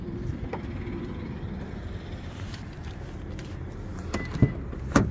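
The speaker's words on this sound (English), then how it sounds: "I hit this button. Then it automatically locks all the doors." Door locks on a 2024 Honda Pilot Touring engaging after a button press, a faint motor whir followed by two sharp mechanical clunks near the end, close by in a quiet car.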